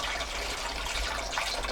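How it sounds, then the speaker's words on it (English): Water is decanted from a large water carrier into 5-litre bottles aboard a boat in winter, a continuous close, steady splashing pour with no pauses or voices. "I decant the water from these larger water carriers into these more manageable"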